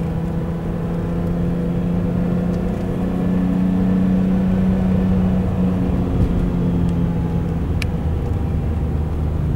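A car drives along a quiet road, with steady engine rumble and road noise filling the whole stretch, close and continuous, with no talking.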